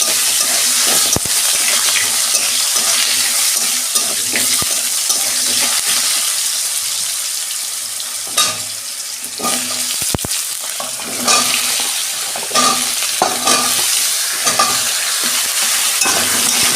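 Vegetables for red amaranth chorchori stir-fried in oil with tempered spices, a steady close sizzle with repeated spatula scrapes and stirring knocks, continuous with no talk.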